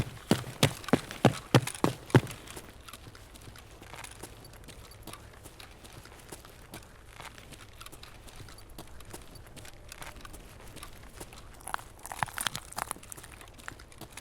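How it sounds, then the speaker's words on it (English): Footsteps in Escape From Tarkov begin as a quick run of sharp, close steps, then fade into a faint, steady patter of distant steps, with a few louder scuffs near the end. "I swear I heard footsteps upstairs."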